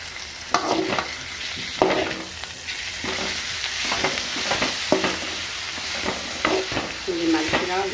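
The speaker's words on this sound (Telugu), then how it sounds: "బీరకాయ పొట్టు, మిరపకాయలు వేసుకోవాలి. రెండు ఒకేసారి వేగిపోతాయి." Ridge gourd peel and green chillies frying in a pan with mint, turmeric and salt, steady sizzling broken by repeated scraping stirs of a spoon against the pan, close and moderately loud.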